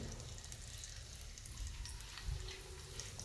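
Cumin seeds sizzle in hot oil in a heated pan while cooking palak thecha, a soft, steady crackling fry that stays low and even throughout, with no voices.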